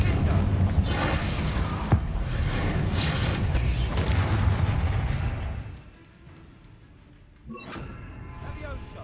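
Confringo spell blast in the Hogwarts Legacy video game, a loud rumbling explosive burst with heavy low booming that lasts several seconds, then drops away before a further crack, with a voice speaking over it.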